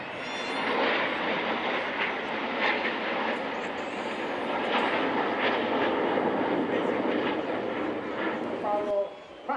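Red Arrows jets roar through a corkscrew formation with smoke at the Blackpool Airshow, a loud sustained engine rush that swells and holds before dropping sharply near the end.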